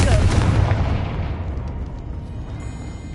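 A Confringo blasting spell going off in Hogwarts Legacy: a loud, booming explosion that hits at once and rumbles away over a few seconds, with faint sparkling effects trailing at the end.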